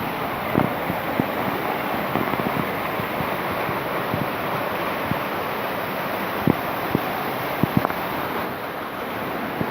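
A waterfall at Emerald Pool in Dominica pours as a steady, dense roar of rushing water, constant and fairly loud with a few faint knocks, and no talking over it.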